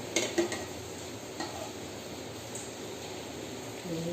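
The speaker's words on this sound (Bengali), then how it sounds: "এটা কিন্তু এইভাবে নাড়াবো। এটা আমি কিন্তু ধরবো, উল্টাবো, একটু এইভাবে নাড়িয়ে দিতে হবে" Langcha dough balls frying in a pan are stirred and turned, with a soft continuous sizzle and a few clinks and scrapes of a utensil against the pan near the start and end.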